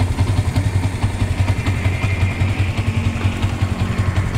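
Motorcycle engine fitted with a new RCB full shifter running steadily on a test ride, a loud, close, throbbing low rumble with constant rhythmic pulsing and no speech.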